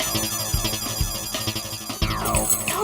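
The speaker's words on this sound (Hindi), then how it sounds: "अभी पूरी रिंग चली गई" A phone ringtone plays continuously in the TV show Taarak Mehta Ka Ooltah Chashmah, a busy repeating electronic melody with pulsing beats, fairly loud and close, with no voices.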